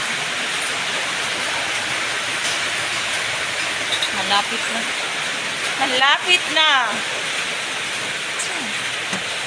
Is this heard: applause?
no